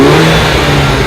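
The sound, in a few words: supercharged Mini Cooper JCW engine starting and revving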